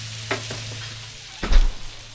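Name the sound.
lemons being chopped and grilled on a griddle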